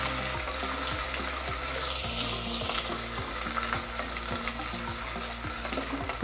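Onion frying in a pan with garam masala spices for coriander biryani makes a loud, continuous sizzle, with a steady tonal hum and regular scraping strokes of stirring running through it.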